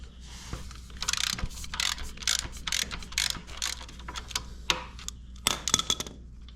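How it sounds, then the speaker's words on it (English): A 9/16 ratchet loosens the motor mount bolts on a 2009 Harley-Davidson Dyna motorcycle. It gives close, crisp bursts of rapid pawl clicking in repeated short strokes with brief pauses between them, and no talking. "get your 9/16 wrench on this side and your 9/16 ratchet on this side, and just get these loose."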